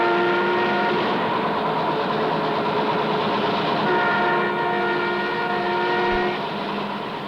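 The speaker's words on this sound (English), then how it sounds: "With a defiant blast from its siren, down train number 13 clears the siding" A loud, sustained horn blares from a LAMCO iron ore train in Liberia over the rumble of the passing train as it clears a siding, holding steady for several seconds before easing slightly.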